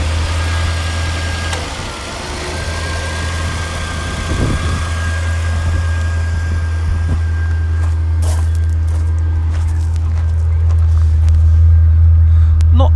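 Maserati Coupe 4200GT engine idling with a deep, steady low rumble after starting, swelling slightly louder toward the end, with scattered light clicks and no talk.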